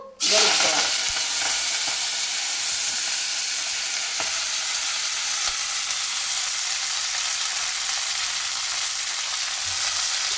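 Chennangi leaves frying in oil give a steady, loud sizzle that starts abruptly and runs unbroken for about ten seconds, with faint stirring clicks underneath.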